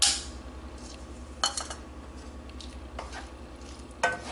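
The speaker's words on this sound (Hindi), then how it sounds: "अब हम चनों के साथ भी इसको तकरीबन 3-4 मिनट भून लेंगे।" Chickpeas frying in masala in a pan, a steady low sizzle with a few sharp scraping stirs of a spoon against the metal at intervals, close and moderately quiet, no voices.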